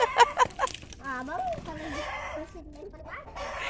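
Chickens fighting, squawking and clucking in quick agitated bursts, with voices talking over them at close range.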